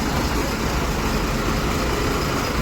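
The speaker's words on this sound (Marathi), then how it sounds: "मध्ये ट्रॅफिक हळूहळू मूव्ह होत जाता" Road traffic crawls slowly along a Konkan route, a steady close wash of engine rumble and roadway noise with no clear breaks, as heard from among the vehicles.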